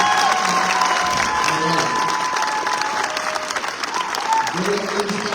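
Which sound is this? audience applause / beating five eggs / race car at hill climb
audience applause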